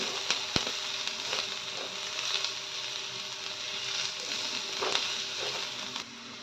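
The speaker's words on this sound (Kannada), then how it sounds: "ಹಸಿಮೆಣಸಿನ್ಕಾಯಿ ಈರುಳ್ಳಿ ಈರುಳ್ಳಿ ಒಂದು ಎರಡು ನಿಮಿಷ ಫ್ರೈ ಆಗಲಿ" Green chillies and onion frying in a pan with curry leaves, a soft steady sizzle with occasional light clicks and scraping stirs, fairly quiet.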